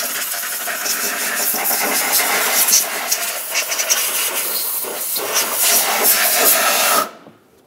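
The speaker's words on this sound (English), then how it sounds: "Let's use some compressed air along where the fuel injectors are." Compressed air hisses loudly and steadily from a nozzle blown around the fuel injectors of a 2005-2010 Dodge Dakota 4.7L V8, rising and falling slightly before cutting off sharply at the end.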